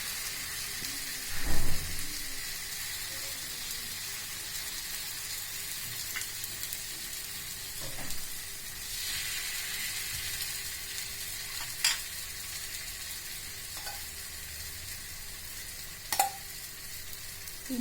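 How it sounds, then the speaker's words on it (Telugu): Ragi millet dosa frying in oil on a hot pan gives a continuous soft sizzle and crackle, with a few brief louder scrapes or taps scattered through the quiet frying. "దీనిపైన కొద్దిగా ఆయిల్ వేసుకొని క్రిస్పీగా ఎర్రగా కాల్చుకోవాలి."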